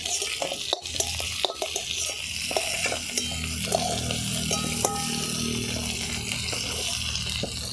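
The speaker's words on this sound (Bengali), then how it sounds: "এইভাবে একটু লাল করে সুন্দর করে ভেজে নেওয়ার পর চিংড়ি মাছটা আবার তুলে নেব" Prawns fry in oil in a village kitchen pan, giving an even close-up sizzle. A couple of sharp clunks sound early on, and light scraping and clinks follow through the rest, with no one speaking.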